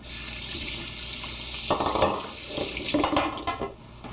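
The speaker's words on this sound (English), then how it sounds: "I'm going to wash my hands" A kitchen tap runs steadily into a sink while hands are washed beneath it, close and continuous, with brief splashing and rubbing toward the end and no talking.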